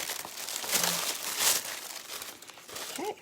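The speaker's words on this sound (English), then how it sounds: "Now we're going to unwrap our goodies on the inside." Packaging from a Paper Pumpkin paper craft kit crinkles and rustles as it is unwrapped up close, a continuous soft crumpling with small tearing bursts, fairly quiet.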